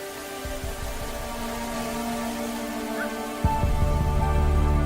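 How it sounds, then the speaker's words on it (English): Summer rain falls across the Kalahari Basin in a steady, dense patter that holds throughout and swells slightly toward the end, with no voices. "In a corner of the Kalahari Basin, the life-saving summer rains have arrived."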